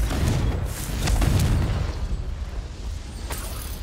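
Confringo blasting spell explosions in Hogwarts Legacy, a series of deep booming bursts with rumbling low-end tails, two or three heavier blasts standing out over a continuous roar.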